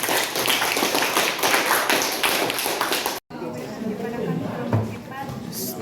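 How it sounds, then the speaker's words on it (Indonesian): A classroom of students claps for a group presentation, a burst of close, uneven clapping that cuts off abruptly, followed by chatter and a few scattered taps. "Kita tepuk tangan untuk kelompok juga"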